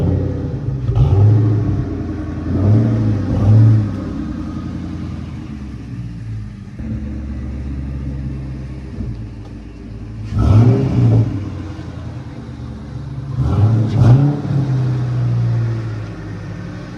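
A 2003 Mustang GT V8 with failing ignition coils idles rough and uneven, rumbling up in a few heavy rev bursts between lower stretches, close by in a garage.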